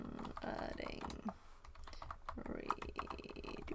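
Rapid typing on a computer keyboard with dense, irregular key clicks heard close by, while someone talks over most of the keystrokes.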